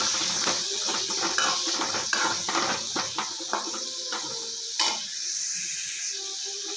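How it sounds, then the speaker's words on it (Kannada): Onions frying with curry leaves in a pan for a North Karnataka style cluster bean fry, with a spoon clinking and scraping against the pan in quick irregular strokes over a faint, steady sizzle. "ಇವಾಗ ಚೆನ್ನಾಗಿ ಹುರ್ಕೊಳ್ಳೋಣ ಈರುಳ್ಳಿ."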